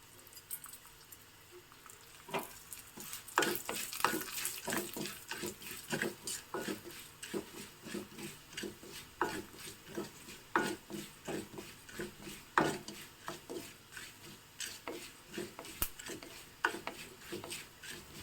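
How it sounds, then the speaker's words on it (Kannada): Cumin seeds and urad dal added to fenugreek in a hot pan for a traditional Mangalore Brahmin-style huli, giving a steady run of sharp crackles and light sizzling pops up close, with no voices. "ಈಗ ಇದಕ್ಕೆ ಜೀರಿಗೆ ಮತ್ತು ಉದ್ದಿನಬೇಳೆ ಹಾಕ್ತಾ ಇದ್ದೀನಿ"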